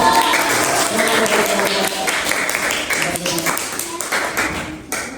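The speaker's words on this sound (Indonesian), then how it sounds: "tepuk tangan untuk kelompok 1" A classroom audience at a teacher performance assessment applauds a presenting group, brisk dense clapping that fills the room and stops abruptly near the end.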